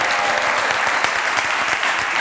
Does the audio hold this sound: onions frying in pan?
no